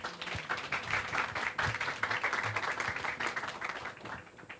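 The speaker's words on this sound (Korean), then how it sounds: "여러분 큰 박수로 맞이해주시기 바랍니다" Steady applause from a forum audience welcoming a vice chairman at a business conference, a continuous, fairly faint patter of many hands without a break.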